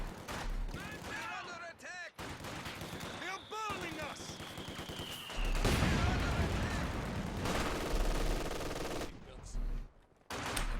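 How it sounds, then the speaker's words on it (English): Rapid bursts of machine gun fire in the Company of Heroes 2 video game, rattling loudly amid other gunfire and explosions, with a brief whistling sweep and pauses between volleys. "There goes that machine gun."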